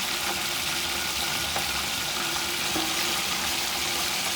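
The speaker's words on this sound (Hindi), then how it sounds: "चिकन को फ्राई कर लेते हैं। चिकन फ्राई करते हैं 5 मिनट तक।" Chicken wings fry in a pan for biryani, giving a steady, even sizzle and hiss close by with a few faint stirring ticks and no talking.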